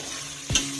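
An onion ghee dosa fries on a hot pan with a steady low sizzle, broken by one brief scrape or flip partway through, with no voices present.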